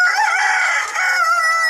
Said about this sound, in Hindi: ये कितने मज़े से इसमें बैठी हुई है मुर्गी।